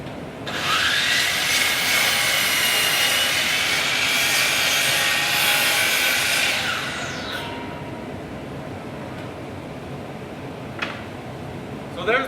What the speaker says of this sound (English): I'm going to cut it on the sliding miter saw.